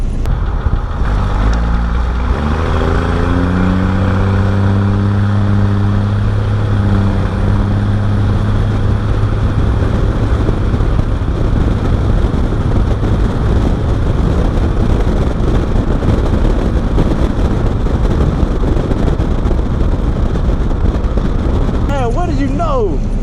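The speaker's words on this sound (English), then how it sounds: "Oh my God, that exhaust sounds amazing." Straight-piped 12-valve Cummins diesel truck driving with a loud, steady exhaust drone and deep rumble throughout, rising and settling as the truck accelerates, with someone talking over it.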